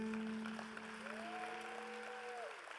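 Audience clapping for Ghana's finance minister at a government youth-enterprise event, a dense, even patter of applause with a steady tonal hum underneath throughout and a brief rising tone in the middle.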